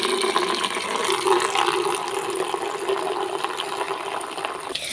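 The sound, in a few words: water being poured while bathing dogs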